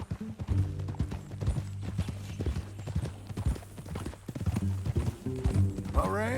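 Horse hooves clip-clopping in a steady rhythm while riding in Red Dead Redemption 2, close and clear, with a low engine-like drone and brief voices and background music mixed in.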